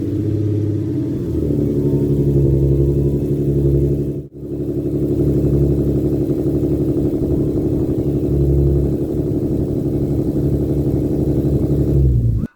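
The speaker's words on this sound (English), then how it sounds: "The car started right up" An Infiniti G37 car engine with a freshly installed motor idles loudly and steadily at close range, with a brief dropout partway through and the running continuing smoothly to the end.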